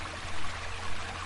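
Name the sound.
river stream flowing, radio drama sound effect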